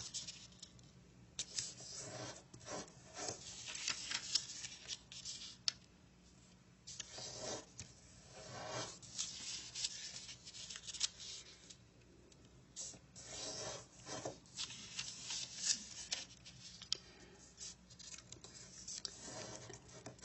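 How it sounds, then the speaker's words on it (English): Paper is folded into an origami pokeball, giving soft crinkles, rubs and creasing swipes that come in irregular bursts over a long quiet stretch, close but faint. "Let's unfold and fold the corners to the middle."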